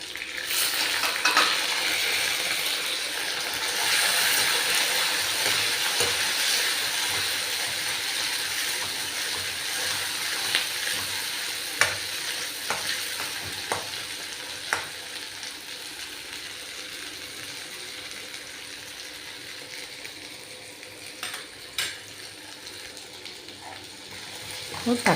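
Tomatoes sauté in hot oil in a pan for a thuvaiyal, giving a steady close sizzle with scattered scraping stir strokes and light clinks throughout.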